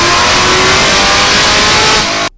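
A 1000-horsepower C7 Corvette Z06 with a big cam and Magnuson 2650 supercharger revs hard and loud up close, a dense roaring blast that cuts off abruptly at the end.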